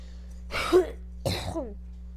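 Two rough throat-clearing bursts, close to the microphone, separated by a short pause against a low steady hum.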